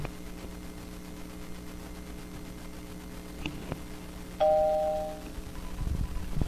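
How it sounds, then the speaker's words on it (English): A doorbell chime rings out once, clear and fairly loud, over a low steady hum, followed by faint rustling. "And that was the doorbell."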